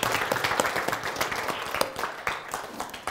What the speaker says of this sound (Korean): 감사의 우리 박수 부탁드립니다